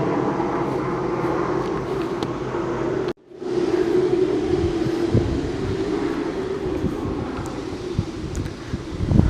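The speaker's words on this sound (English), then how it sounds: "sorry, plane's distracting me" An airplane passes overhead above the back streets of Cheltenham, a steady broad roar that fills the whole stretch with only a brief dip near the start, outdoors with wind, no talking.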